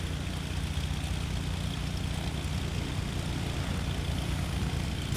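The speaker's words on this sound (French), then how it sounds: "Allez, on fait un décollage parallèle." A light aircraft, a Cessna 172, running at takeoff power during a parallel takeoff: a loud, steady propeller engine drone close by, unbroken throughout.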